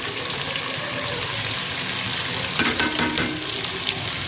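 Onions sizzle and fry in hot ghee in a pan on the stove for masala bhindi, a steady dense crackle, close and fairly loud, with a few sharper spits and stirring scrapes near the end.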